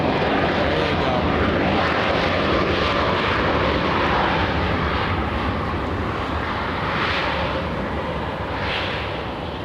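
Air Force One, a Boeing 757 jet, roars loudly and steadily at LAX, a broad continuous engine rumble that swells and fades slightly as it passes nearby.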